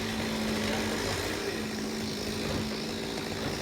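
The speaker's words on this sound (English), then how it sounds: "So the audio is going to be a bit funny today because there's a chainsaw outside." A chainsaw runs outside, heard as a steady, somewhat distant engine drone with a constant hum that fills the whole stretch without pause.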